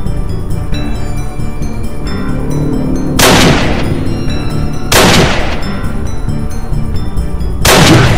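Gunshots in the Roblox game Piggy, three loud separate blasts spaced a couple of seconds apart over a steady game background with music.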